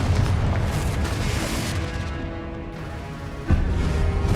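A Confringo blasting spell erupts in Hogwarts Legacy as a heavy, rumbling explosion in the middle of sustained combat noise, followed by a fresh sharp burst near the end.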